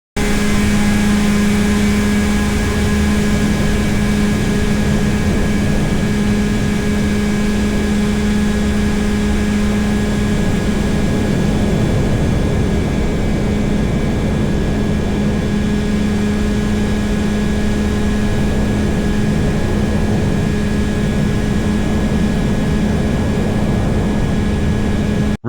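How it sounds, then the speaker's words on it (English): An AirBike ultralight aircraft engine drones steadily at high revs through takeoff and climb out, a loud continuous tonal hum with fluctuating broadband noise and no talk. "Take off at approximately 35 miles per hour. Accelerate to 45 plus mph, then climb out."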